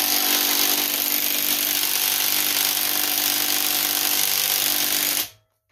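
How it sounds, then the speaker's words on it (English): A 200-pound impact wrench hammers at stubborn axle bolts on a GT6000 transaxle, making a loud, continuous rattling burst for about five seconds before cutting off abruptly with no voices. "this 200-pound impact is just barely moving them"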